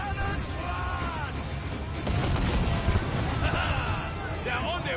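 Ship cannons fire in the naval combat of the video game Assassin's Creed Black Flag, a dense, loud barrage of booms and rumbling blasts mixed with game music and shouted voices throughout.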